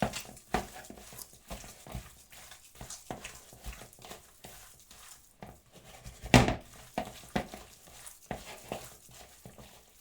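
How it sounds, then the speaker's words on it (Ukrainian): Minced meat being mixed by hand with garlic, salt and pepper, a run of soft wet squelches and light taps against a bowl in an irregular rhythm, fairly close, with one louder knock midway. "Це все перемішати і так, щоб ці всі інгредієнти подружилися."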